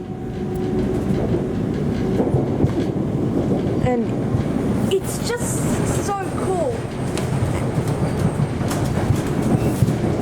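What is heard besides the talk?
HCMT train running from Flinders Street to Dandenong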